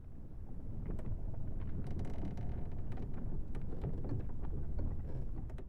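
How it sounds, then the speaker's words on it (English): Wooden ship creaking in the video game Kingdom Hearts 3, heard as a steady low rumble with a wind-like wash and scattered creaks and knocks, sustained throughout without speech. "I like how there was like the creaking of a ship"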